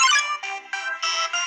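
A cellphone ringing in the video game Undertale, a synthetic, tonal ringtone in short repeating bursts with brief gaps, clear and close with no talking.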